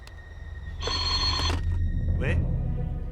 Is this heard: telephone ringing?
yes